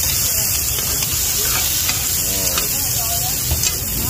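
Rice noodles with beef are stir-fried at a street food stall in a Vietnamese night market, giving a loud, continuous sizzle with faint scraping from the stirring throughout, and no talking.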